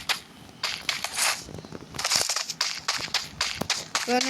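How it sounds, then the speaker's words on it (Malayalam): Gunfire in a shooting video game sounds as a string of sharp, crisp cracks, moderately loud, with short gaps and some clustered shots, against a busy game-audio background. "നമുക്ക് എനിമീനെ കാണാൻ വേണ്ടി 2 വെടിയും നടത്തുന്നുണ്ട്."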